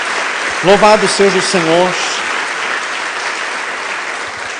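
A church congregation breaks into applause during a Portuguese-language sermon, a steady wash of clapping running under a preacher's spoken praise and continuing on its own afterward.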